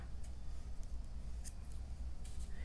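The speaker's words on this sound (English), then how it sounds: "after you chain 1 here, you'll cut your yarn" Scissors snipping yarn while crocheting a mesh dress; a few quiet, crisp snips spread over a soft, low background, with no talking.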